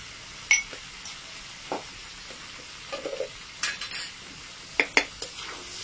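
Chole masala being stirred and sautéed in a pan for dhaba-style kabuli chana, with a spoon scraping and clinking against the metal in scattered bursts over a faint sizzle. No one speaks.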